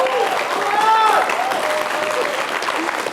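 Applause from a studio audience at a Georgian TV quiz show semifinal, steady dense clapping throughout, with a clear voice speaking over it.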